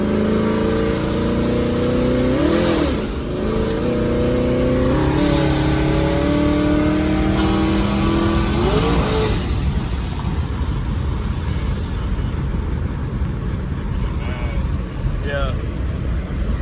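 A car driving on the highway revs hard, its engine flaring with repeated rising and falling surges over steady road and wind roar. The fault may be a slipping clutch.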